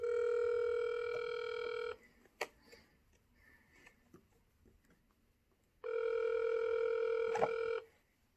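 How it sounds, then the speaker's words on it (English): A telephone ringback tone sounds on an outgoing call: two long steady buzzing rings about two seconds each, separated by a four-second gap of near silence with faint clicks. "They better answer this phone."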